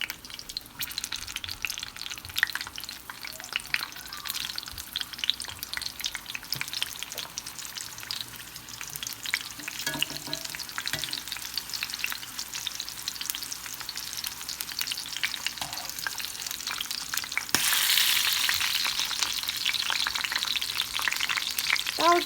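Tomatoes and onion frying in a pan while being stirred, a continuous close sizzle with scraping stir strokes throughout, swelling louder and hissier near the end, with no voices.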